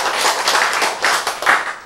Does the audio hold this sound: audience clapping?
yes